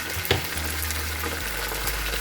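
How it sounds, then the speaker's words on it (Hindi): Ginger garlic paste is stirred into biryani masala in a pan, giving a continuous hiss of frying with soft scraping of the spoon and a low background drone, fairly loud and steady, no talking. "2 टीस्पून छोटी चम्मच लहसुन अदरक का पेस्ट मिला देंगे। तो मिक्स कर लेंगे, मिला लेंगे।"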